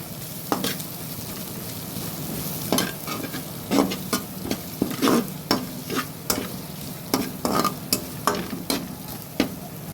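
Stir-frying in a pan with salt, turmeric and chili for fried rice: a steady sizzle punctuated by repeated sharp scrapes and clacks of a spatula, close and rhythmic.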